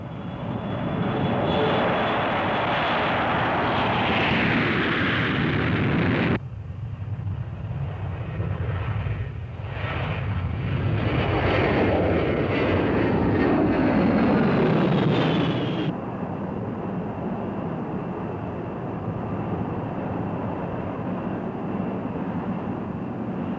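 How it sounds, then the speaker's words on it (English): Strategic Air Command bomber aircraft launch with a loud, sustained roar of jet engines, their pitch sweeping as they pass, in overlapping waves of heavy rumble with wind noise, and no talk. "and the aircraft launched."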